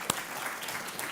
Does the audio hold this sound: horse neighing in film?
no